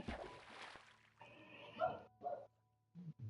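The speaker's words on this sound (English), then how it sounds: "That puppy's barking upstairs." Upstairs in a Minecraft house, a puppy gives several short, faint yips and barks in quick separate bursts, muffled and distant, with quiet gaps between them.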